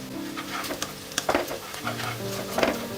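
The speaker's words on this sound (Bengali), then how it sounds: "এক পিঞ্চ পরিমাণ গোটা জিরে দিয়ে দিলাম" Whole cumin seeds and dried chilli crackle in hot oil, with a soft, light sizzle and a few close clinks of a stirring spoon against the pan.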